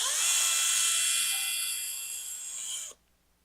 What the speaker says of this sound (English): go ahead and run all the screws down till they're just kind of tight but not cranked down at all